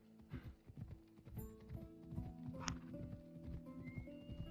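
A horse in the video game Assassin's Creed Odyssey gallops with rapid rhythmic hoofbeats, then gives a high whinny mid-way, fairly quiet overall with game music tones underneath.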